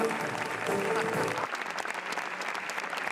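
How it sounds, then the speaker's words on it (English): Sustained applause from a crowd at the Cannes 2021 red carpet for Flag Day, dense clapping that thins out partway through. "So, long applause."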